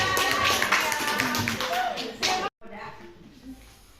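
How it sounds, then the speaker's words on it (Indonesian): A group in a classroom session claps hands in a dense burst of applause over voices, lasting a couple of seconds before cutting off into quieter murmuring. "tepuk tangan."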